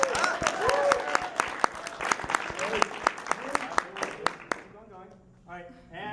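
An audience at a show applauds to vote for a team, loud dense clapping with cheers that fades out toward the end, followed by a few brief voices.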